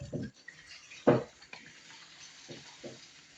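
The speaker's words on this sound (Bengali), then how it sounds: "আর একদিকে আমার মাংসটা আমি নেড়ে নিচ্ছি" Meat frying in a pan being stirred, with a few separate scraping and clinking strokes of the utensil against the pan, one louder than the rest, close by and with no talking.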